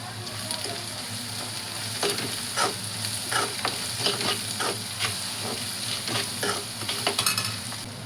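Sliced onions with salt and green chillies fry in hot oil in a pan, sizzling continuously while a utensil stirs and scrapes in irregular clattering bursts; no one speaks.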